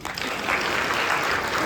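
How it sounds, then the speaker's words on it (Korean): Steady applause from an indoor audience at a high school information session, a dense continuous patter of clapping that holds evenly throughout. "부장님들도 박수 한번 주세요."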